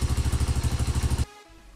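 Dax motorcycle engine idling while warming up before an oil change, a loud close rhythmic thumping putter that cuts off abruptly near the end, leaving faint background.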